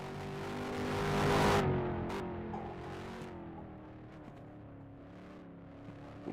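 Race car lapping in the Halifax race, its engine rising to a louder pass then fading to a steady, distant drone.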